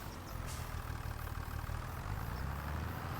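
A vehicle engine in the Farming Simulator 25 video game idles smoothly at steady low revs, a continuous even hum with no voices over it.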